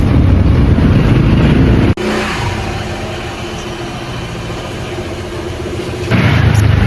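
A car engine runs steadily at close range, loud and continuous, with a sharp break as a door shuts partway through and the engine tone shifting slightly toward the end; no one speaks.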